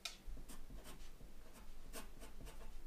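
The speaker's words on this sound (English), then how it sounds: "Let's write that down." Pen or pencil writing out a skateboard wheelbase measurement on paper, a run of short scratchy strokes at close range, quiet and unaccompanied.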